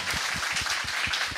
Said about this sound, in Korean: 지금 박수 한번 주세요